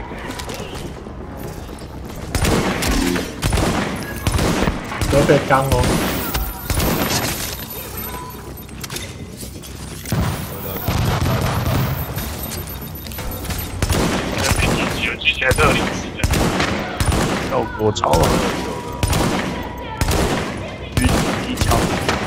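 Light machine gun fire in a video game, with dense continuous bursts of rapid automatic shots and other gunfire, loud and close, while players talk over it throughout.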